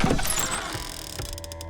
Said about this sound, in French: j'ouvre la porte délicatement